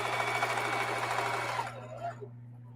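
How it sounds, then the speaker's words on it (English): Sewing machine stitching a camo tote bag, a steady close mechanical whir with fast rhythmic needle chatter that slows and fades out as the machine stops near a corner. "I'm pushing it up because I don't want to sew over the corner of two thicknesses"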